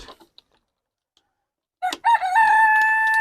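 A silkie rooster crows near the camera after a quiet start, its call rising into a long sustained note, with a brief cluck just before and other hens from a small flock of silkie chickens nearby.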